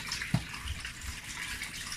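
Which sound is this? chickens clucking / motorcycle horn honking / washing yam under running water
washing yam under running water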